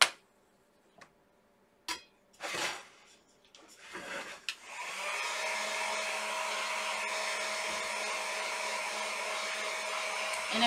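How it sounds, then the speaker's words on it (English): A heat gun dries fresh stenciling on an XOXO candle holder. A few scattered knocks and handling noises come first, then a loud, steady blowing roar continues to the end. "So I'm going to have to use my heat gun. Sorry if it's loud."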